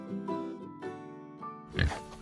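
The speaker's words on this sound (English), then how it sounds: "pig, pig" Pig grunting and oinking in short repeated bursts, fairly close and clear, with one louder, rougher squeal-like grunt near the end and no talk.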